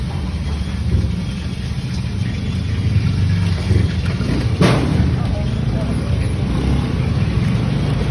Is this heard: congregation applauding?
no